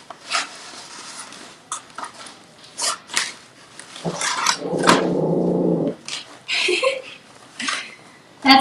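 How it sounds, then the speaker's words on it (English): A dog barks indoors in sharp, separate bursts scattered through the stretch, mixed with clattering of dishes and cutlery and a brief stretch of louder noise midway. "That's my dog."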